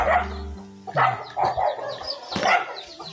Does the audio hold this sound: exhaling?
no